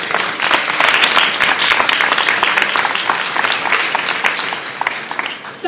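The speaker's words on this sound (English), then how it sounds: "I want you to give him, this man, a round of applause" Loud, sustained applause from a large crowd at a genealogy presentation, steady clapping filling the whole stretch without letup.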